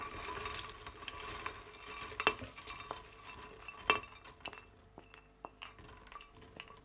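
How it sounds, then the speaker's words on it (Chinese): Walnuts and almonds tipped into a blender jar on top of black beans, heard as soft rattling and a couple of crisp clinks against a quiet background, fading out toward the end. "再把核桃仁、杏仁倒进来"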